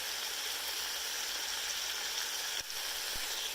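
Cabbage sizzling in a pan with browned onions, a steady soft hiss of frying with a couple of faint knocks near the end.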